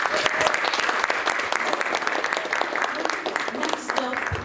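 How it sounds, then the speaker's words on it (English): Audience applause in a hall during a student union officer candidates' Q&A, with steady dense clapping sustained throughout, fairly loud and close, with voices mixed in. "Give them a round of applause"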